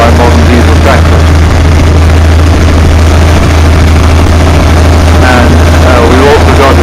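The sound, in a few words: Fowler K7 steam ploughing engine running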